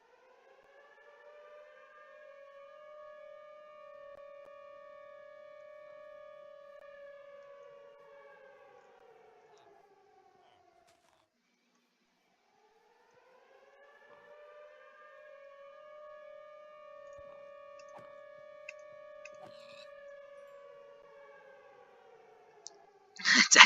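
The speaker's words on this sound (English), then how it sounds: "This is a tornado siren test for Plain County Village." A tornado warning siren in the Minecraft video game sounds for a test, a steady wailing multi-tone blast that rises, holds and falls away, then repeats after a short silence, ending with a few clicks and a loud burst.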